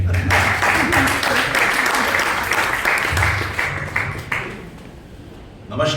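Steady applause from a crowd at a Hindi poetry recital fills the room, continuous clapping that tapers off near the end, with a faint voice underneath.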